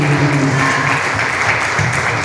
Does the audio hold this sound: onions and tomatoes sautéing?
no